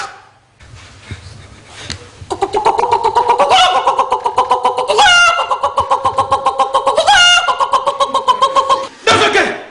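A person imitates a rooster, producing a long, loud, drawn-out crowing call with pulsing, stuttering tones and rising squeals, close and alone after a quiet start.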